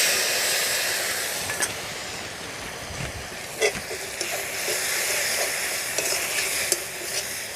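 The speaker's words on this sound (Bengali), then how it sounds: "এইবারে আমি এই গুলে রাখা মশলার পেস্টটা দিয়ে দেব" A soaked spice paste fries in oil in a pan for a village-style pointed gourd and prawn dish, giving a continuous loud hiss and sizzle with occasional sharp pops and clinks.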